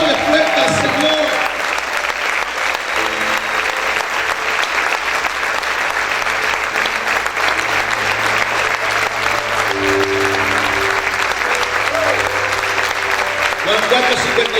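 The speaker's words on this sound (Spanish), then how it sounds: "Aplaude fuerte al Señor." A church congregation claps loudly and steadily, a dense, sustained wall of applause lasting the whole stretch, with voices and cheers mixed in and a low sustained tone underneath.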